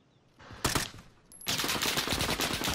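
A machine gun fires in a Warzone-style battle royale video game, with a short burst of rapid shots followed by a longer sustained stream of rattling gunfire.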